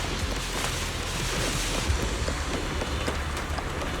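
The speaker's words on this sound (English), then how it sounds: "The wind and rain are picking up." Steady, dense rain hiss with a low rumbling wind underneath in the video game Zenless Zone Zero, continuous and fairly loud throughout, no voices.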